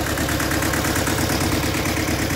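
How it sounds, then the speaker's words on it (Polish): A Shibaura SL1743 tractor with a 124 cm Shibaura RE2124 rotary tiller drones steadily nearby, a dense rumbling churn with a rhythmic mechanical pulse. "Traktorek z grobogryzarką."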